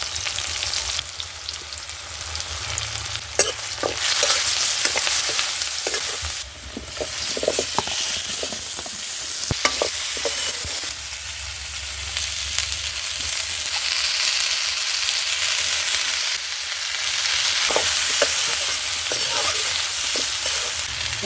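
Chopped garlic, ginger and chili fry in hot oil with a steady, loud sizzle, broken by occasional sharp spatters and stirring clatters, with no talking.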